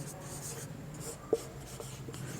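A sentence is written on a classroom board with faint, steady scratching strokes and one brief tap partway through, against a quiet room hum.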